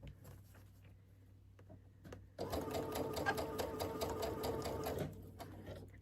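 A sewing machine stitching quilt pieces together for a Churn Dash mini quilt, running in a steady fast whirring burst for about three seconds after quiet handling of fabric, close and alone.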